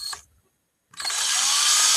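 A power drill bores into a resin piece, a brief whir, a short pause, then a sustained loud high-pitched grinding whine as the bit cuts through.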